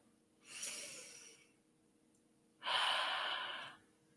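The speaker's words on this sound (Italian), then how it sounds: "E ora facciamo un bel respiro profondo." A slow, deep inhale and long exhale during a guided meditation, two soft broad breath sounds close to the listener with a quiet gap between them and no talking.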